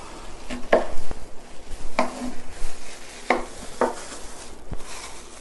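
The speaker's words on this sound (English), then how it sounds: "And then chop it finely." A knife chops kimchi finely on a cutting board, a series of crisp, close thuds in an irregular rhythm, roughly every second or so, over a soft background hiss.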